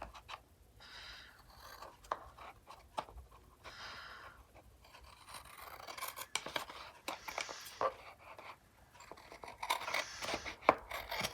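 Scissors trim the paper overhang on a handmade trifold card, heard as close, irregular snips and crisp scraping cuts scattered across a quiet background, with no speech.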